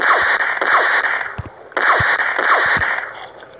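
Rapid bursts of video game gunfire crack out in two clusters, with sharp individual shots and rattling volleys, loud and close, with no talking.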